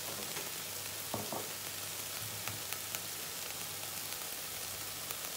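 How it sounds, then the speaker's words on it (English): Onions cooking in a pan for a chilli con carne, a soft, steady sizzle with a few faint clicks and taps, quiet and with no one talking. "Do that while onions are cooking."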